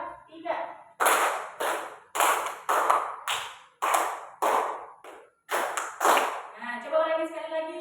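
Hand clapping in a rhythmic pattern during a fifth-grade lesson on recognizing patterns, sharp claps in groups of one and two separated by brief pauses, close and fairly loud, with a teacher's voice speaking at the start and end.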